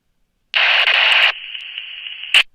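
A dead key from a handheld radio through a Retevis RT97 5-watt repeater about 2 miles off: a loud burst of hiss, then a steady carrier tone ending in a short squelch tail.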